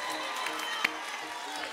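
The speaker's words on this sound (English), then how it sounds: "Clap for Jesus." A church congregation claps during a worship service, producing a steady wash of applause and crowd noise with one sharper clap standing out, fairly close and continuous.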